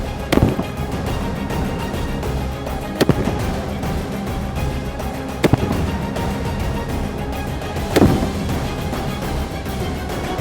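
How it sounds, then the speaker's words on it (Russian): A French Legion .50 BMG rifle fires at armor: four sharp, loud shots spaced a few seconds apart over steady outdoor background noise. "Стреляю еще раз по броне."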